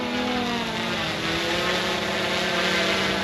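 A drone flying overhead gives off a steady, loud, buzzing whine that holds evenly throughout, with no voices.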